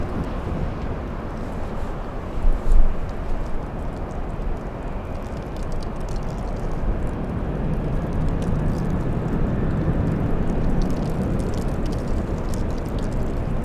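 An airliner at LAX airport roars with a broad, steady engine rumble that holds loud and continuous, mixed with wind buffeting the microphone, no voices.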